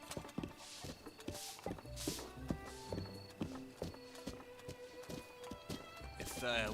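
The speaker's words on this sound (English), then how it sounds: "The horse isn't so easy to steer." A horse walks in the video game Zelda Breath of the Wild, its hooves clip-clopping in a quick, even rhythm, close and clear, with a voice talking over it.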